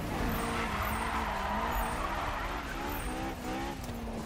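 Game car in Need for Speed 2015 drifting around a corner, its engine holding a steady loud drone while tyres squeal and scrub continuously throughout.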